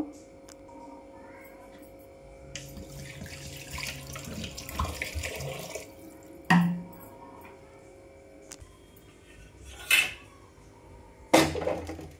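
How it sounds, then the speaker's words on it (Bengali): Water is poured into a hand-mixed khichdi mixture in a home kitchen, making a splashing pour with a few sharper bursts of clatter over a steady, moderately close background. "এবার আমি পানি দিয়ে দেব।"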